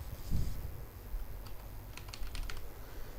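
Keys tap on a computer keyboard as a command is typed into a Windows command prompt: a few faint scattered clicks, then a quicker run of light keystrokes, quiet and close over low background hum.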